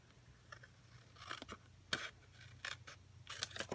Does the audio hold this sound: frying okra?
no